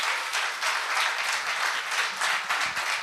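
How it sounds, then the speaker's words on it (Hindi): Loud, dense applause from a large audience at an All India Mushaira poetry gathering, steady clapping with rolling surges that runs for a few seconds without speech. "सभी लोग एक मर्तबा जोरदार तालियां बजाकर।"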